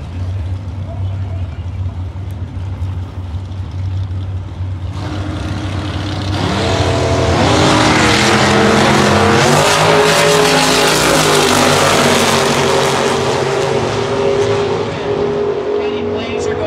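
Drag race launch between a 1967 Ford Mustang and a 1948 Ford Anglia: engines idle low at first, then roar loudly as the cars accelerate hard down the strip, with a commentator talking over the noise.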